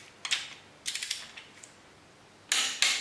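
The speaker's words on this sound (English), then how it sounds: "I've torqued each one of those bolts up to 65 Newton meters" A torque wrench tightens engine bolts on a VW T25 engine, giving short ratcheting clicks in brief bursts with pauses between them, close and fairly faint, ending in two sharper clicks. No one speaks.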